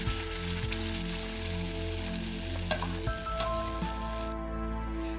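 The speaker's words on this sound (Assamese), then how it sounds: "এতিয়া মই সেই গ্ৰাইণ্ড কৰি থোৱা বিলাহীখিনি ইয়াত এড কৰিম" Ground tomatoes hit melted butter in a pan over a medium gas flame, sizzling loudly and steadily with a faint stirring scrape before the hiss thins out near the end.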